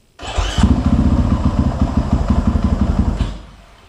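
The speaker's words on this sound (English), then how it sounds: "I'm just going to fire it up." A big-bore thumper single-cylinder motorcycle engine fires up after a short crank and settles into a loud, close, rapid thumping idle for about three seconds before cutting off abruptly.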